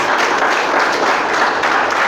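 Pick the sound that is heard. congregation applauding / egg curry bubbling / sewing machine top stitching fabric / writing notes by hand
congregation applauding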